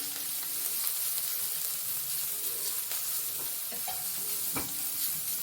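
Cumin, grated green chilli and grated carrot frying in ghee, a loud continuous sizzle and hiss with occasional stirring scrapes, close and alone without talk.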